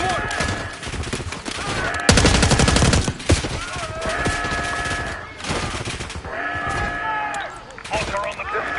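Mortar strike in the Call of Duty Black Ops 6 campaign, with a heavy blast cutting through rattling gunfire and bursts of combat noise, while voices talk over the chaotic mix.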